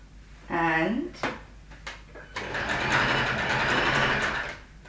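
A sewing machine stitching swimsuit fabric, a short whirring burst followed by a longer steady run of stitching, close and moderately loud, with a voice talking in between.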